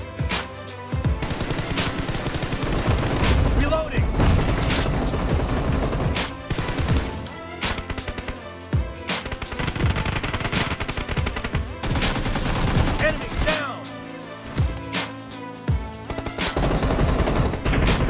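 Rapid gunfire from a team-based mobile shooter game, near-continuous machine-gun bursts and sharp individual shots crackling loudly throughout, with brief gaps between volleys over a steady game soundtrack.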